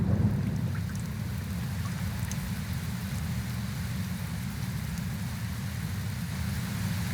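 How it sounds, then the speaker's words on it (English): Steady rain pours down in a forest at the close of a long dry season, a dense continuous hiss with low rumbling thunder rolling underneath throughout. "Oh, it's raining."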